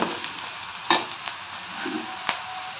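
Potatoes frying in a pan give a steady close sizzle broken by a couple of sharp utensil clinks and scrapes, with no speech.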